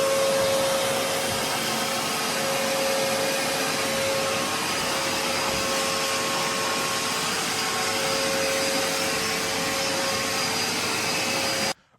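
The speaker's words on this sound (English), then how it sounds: "we're going to carry on with vacuuming all of the roof" A vacuum cleaner running continuously while cleaning a roof, a loud, steady whine with a constant tonal hum that holds evenly for several seconds before cutting off abruptly at the end.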